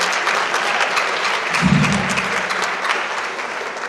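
Applause from an audience at a Virginia Women for Trump 2020 campaign kickoff rally, a steady dense clatter of many hands clapping throughout, close and loud, with no talk over it.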